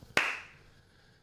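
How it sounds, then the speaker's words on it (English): Two sharp, loud hand claps spaced about a second apart, the first ringing out and decaying slowly in a quiet room, alone with no talk. "is slow clapping"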